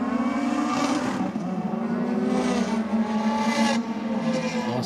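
Nissan S15 GT and Mazda RX-7 racing side by side down a drag strip, loud sustained engine roar with rising revs and harmonic whine, steady and close throughout without talk.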